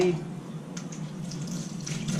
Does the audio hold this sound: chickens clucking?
no